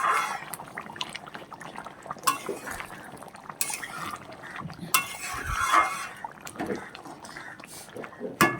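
Vegetarian potato curry (aloo dum) stirred in a pot, with scattered clinks of a utensil against metal and wet sloshing at an uneven rhythm, close and moderately loud, under light talk.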